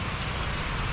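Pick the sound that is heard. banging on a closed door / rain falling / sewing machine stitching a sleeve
rain falling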